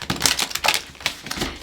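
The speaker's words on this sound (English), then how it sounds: "So let me get a few shuffles." A deck of tarot cards riffled and shuffled by hand at close range, a series of quick papery bursts and soft slaps in an uneven rhythm.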